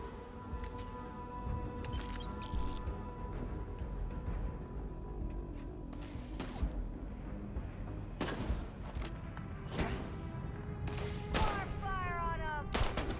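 Gunfire in the sci-fi video game Starfield: repeated bursts and single shots crack over a low rumbling background, with voices shouting in between.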